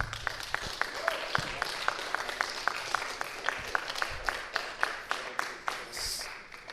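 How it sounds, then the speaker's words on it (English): A small group claps for workshop participants, fairly sparse, rhythmic handclaps at moderate distance, quiet and regular, with faint talk briefly at the start. "So a big round of applause to start to all of the workshop participants."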